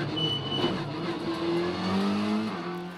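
Onboard sound from the number 18 Honda Civic race car during a spectacular crash: a loud engine drone with shifting pitch, tire noise and rough mechanical clatter running continuously without speech.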